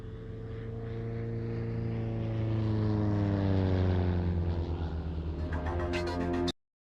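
Kit-built propeller display aircraft at a Scottish airshow, a loud engine drone that swells as the plane passes close, then cuts off abruptly.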